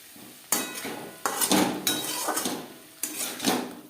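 Cauliflower being stirred in a pan over a medium gas flame, then covered with a lid: a series of loud metallic clanks and scrapes of utensil against pan, coming in several separate bursts, with no talking.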